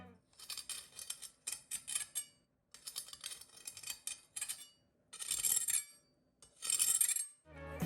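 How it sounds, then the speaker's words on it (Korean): Crispy skin of air-fried meat scraped several times, a sequence of dry rasping, crackling strokes in short bursts with brief pauses, close and fairly quiet, no voices. "껍질을 긁으면 어떤 소리가 날까요?"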